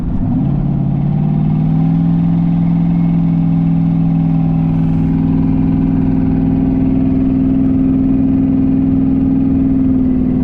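A loud car engine with cut downpipes drones steadily, a deep idle with slight rises in revs, filling the whole stretch with no voices.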